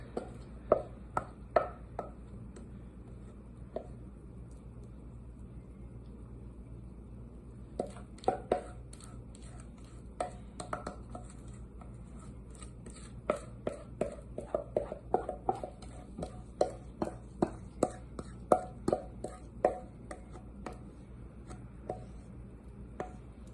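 Thick banana bread batter being scraped out of a mixing bowl, with a steady run of close, crisp scraping clicks and taps against the bowl over a low background hum.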